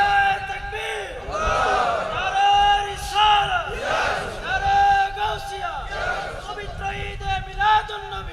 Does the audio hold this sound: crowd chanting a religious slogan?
yes